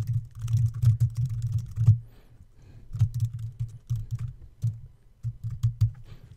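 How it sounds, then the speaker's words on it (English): Rapid keystrokes on a computer keyboard while entering an address during web design work in the Divi builder, close and fairly loud, coming in two dense bursts separated by a short pause, with no talking. "And then we'll just type in our address."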